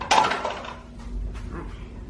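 Bread dough being stirred in a pan, an opening metallic scrape and clink of utensil against the pan, followed by softer intermittent scraping, close and alone.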